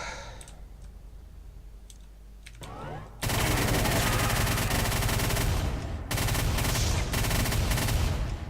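A chain gun in Brutal Doom 64 opens up after a few quiet seconds of game ambience, then pours out dense, loud continuous fire that barely breaks for nearly six seconds.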